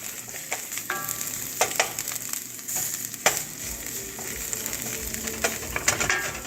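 Garlic sizzling and frying in a hot skillet for an Asian-inspired beef and vegetable dish, a steady crackling hiss with scattered pops and scraping stirs throughout, close and fairly loud, with no talking.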